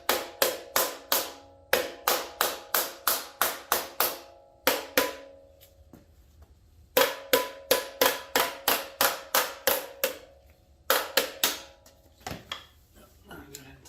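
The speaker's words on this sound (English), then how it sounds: "Just kind of lightly tap that so it seats that clamp and everything." Light metal taps on a DPF canister clamp on a Kenworth T660 with a Cummins ISX15, struck in quick rhythmic bursts of about a dozen sharp close knocks each, with a brief pause between bursts and no speech.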